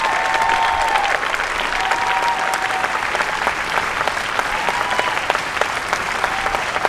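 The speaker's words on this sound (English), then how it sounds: "Give him a round of applause." A crowd at a Juneteenth celebration and peace rally in Arlington applauds continuously, a steady, even patter of many hands that is fairly loud and close, with faint voices underneath.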